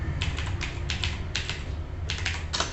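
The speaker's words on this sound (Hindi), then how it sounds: "अब यहाँ पे मैं अगर कोई भी टाइपिंग करूँगा जैसे, तो ये अंग्रेजी में आएगी।" Keys clack on a computer keyboard in quick, uneven bursts of sharp taps, close and clear over a low background hum, with a short pause before a final flurry.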